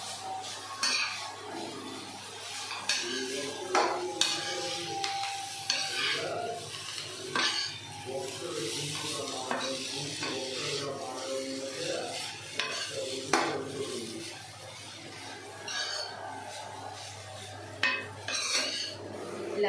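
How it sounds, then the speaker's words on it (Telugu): Oil, mint, coriander and onions being stirred together in a pot, a steady run of utensil scrapes and clinks against metal with a light sizzle underneath, close and continuous for the whole stretch. "ఆయిల్, పుదీనా, కొత్తిమీర, ఆనియన్స్ అన్నీ కలిసేలాగా"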